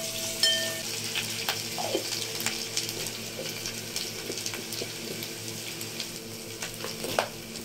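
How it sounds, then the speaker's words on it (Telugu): Light deep frying in oil for kaju paneer curry: a steady, close sizzle and crackle runs throughout, with a few soft clinks and stirring knocks, and no one talks. "లైట్గా డీప్ ఫ్రై చేసుకోవాలి"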